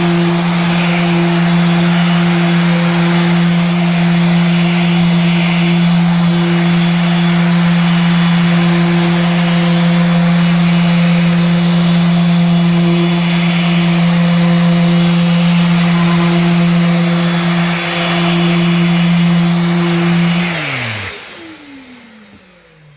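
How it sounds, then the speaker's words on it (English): A Mirka dust-free electric sander fitted with a 120 grit pad runs with a steady, loud motor whine that holds constant for about twenty seconds before spinning down and stopping. "I've got 120 grit sanding pad on, which I would use."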